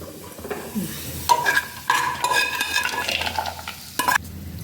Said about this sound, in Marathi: खोबरे किसलेले आहे, तेही भाजून घेत आहे।